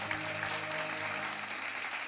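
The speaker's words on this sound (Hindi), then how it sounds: "एक बार जोरदार तालियां इनके लिए भी" At a televised school quiz show, the audience applauds a team with brief, steady clapping while a low musical hum sits beneath it.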